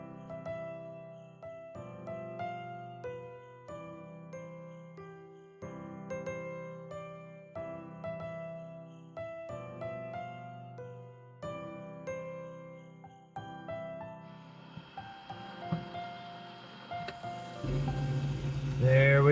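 A 3D printer prints a snowflake gift label, its stepper motors sounding a run of clear melodic tones in short repeating phrases, then a rougher mechanical whir builds near the end.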